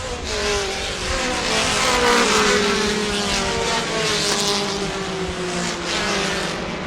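Street stock race cars roar around a short oval track in a loud, continuous pack, engine tones rising and falling as they pass close by with no talk.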